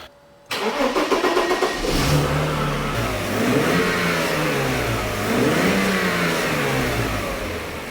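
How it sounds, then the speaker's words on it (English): Mercedes W140 S-Class engine cranking and firing up, then running with a few revs and a smooth steady rumble, close and loud. "Right, engine runs sweet"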